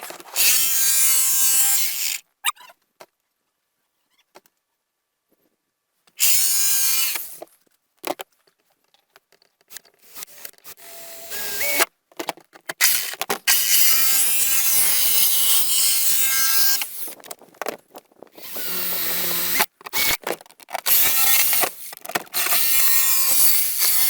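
A metal sheet is cut for a roof light install on a self-build, producing long loud harsh rasping cutting runs broken by a few silent pauses and short bursts.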